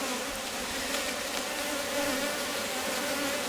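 Honey bees buzz steadily around an open Rose Hive during an inspection, a dense close swarm drone with a sustained hum that holds level throughout, no talking.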